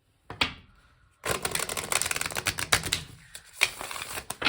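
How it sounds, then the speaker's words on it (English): Tarot cards shuffled by hand: a brief riffle, a pause, then a longer run of rapid crisp flutters and taps, close and alone. "Okay, one more shuffle."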